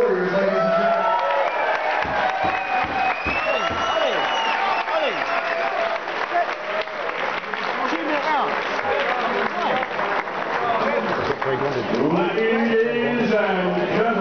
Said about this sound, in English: One more round of applause for both these warriors, ladies and gentlemen.